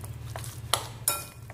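A utensil scrapes and clinks against a pan while minced pork is stirred, giving a few sharp metallic taps over a low steady hum.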